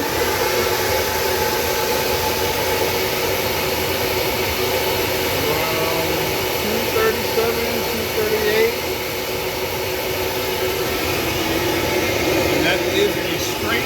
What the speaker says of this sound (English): now we're about to flow this manifold, bolt it together,